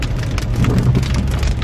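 Heavy rain falls outdoors during a storm as a dense, steady hiss of drops pattering on surfaces, loud and close with no voices.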